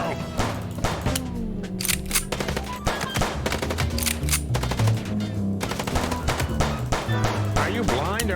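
Rapid gunfire bursts from the Chicken Police video game crackle and thump steadily throughout, layered under busy game music and voices talking.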